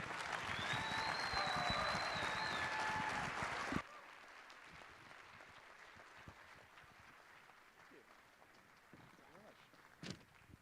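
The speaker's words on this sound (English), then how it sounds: "working in radio, you don't hear applause very often, so that was refreshing" A crowd at a Republican candidates' debate forum for a Third District race applauds loudly for a few seconds, then the sound drops abruptly to a quieter room with faint rustling and an occasional knock.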